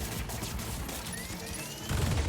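Turret fire in the Spider-Man 2 video game, heard as a dense, steady rattle of rapid shots under game effects, moderately faint, with a heavier thump near the end.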